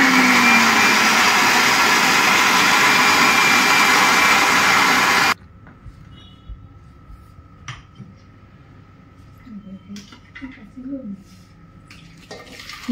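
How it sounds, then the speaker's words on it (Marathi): A kitchen mixer loudly churns milk cream with water to make butter, running steadily for about five seconds before cutting off abruptly, followed by quiet clinks and faint handling. "पाणी, वॉटर ॲडिंग अँड देन परत मिक्सरिंग"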